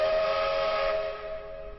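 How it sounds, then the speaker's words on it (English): A moving train's whistle sounds as one sustained, fairly loud tone that holds steady and then fades away over about two seconds, with no other sound around it. "And the train keeps going."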